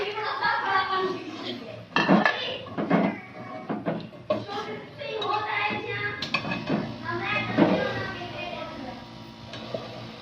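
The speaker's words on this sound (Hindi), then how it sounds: "अब मैं टमाटर और हरी मिर्चें डाल रहा हूँ" Tomatoes and green chillies go into a cooking pan for a pea and potato curry, with scattered clinks and knocks of a utensil against the pan and a voice talking throughout.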